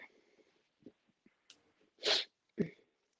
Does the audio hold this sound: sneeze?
yes